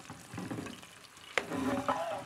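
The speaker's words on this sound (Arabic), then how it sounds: "انت كده بتشوح الفراخ مع الخضار." Chicken and vegetables sauté in a pan with a soft, quiet sizzle, broken by one sharp utensil clank and some stirring noise.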